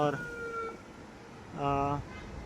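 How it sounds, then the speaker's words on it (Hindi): An emergency vehicle passes along a street in China, its siren sounding in two short wailing blasts over steady traffic noise. "अभी जो है वो एक एमरजेंसी गाड़ी पास से गुजर रही है, तो जब भी एमरजेंसी सायरन सुनाई देता है सबको"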